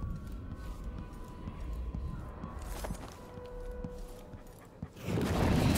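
A dog in Dishonored 2 pants and whimpers softly amid game ambience and faint footsteps, then a louder rush of noise swells at the end.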